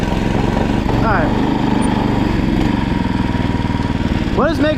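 A go-kart's engine runs steadily in the snow with a rough, rattly mechanical drone, loud and close, and brief revving whines near the start and end.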